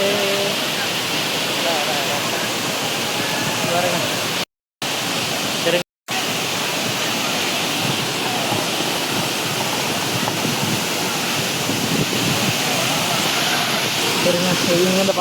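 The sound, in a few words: Hogenakkal Falls waterfall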